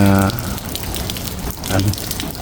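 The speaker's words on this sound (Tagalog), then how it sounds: "ang lakas ng ulan guys" Steady, dense hiss of heavy rain pouring down throughout in Dammam, Saudi Arabia, with a voice speaking briefly at the start and again near the end.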